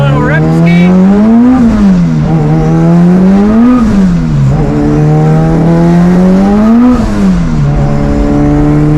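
A car with a B16 engine on a short test drive, the engine loud and close as it revs up through the gears in repeated climbing pulls, each easing off at the shift before building again.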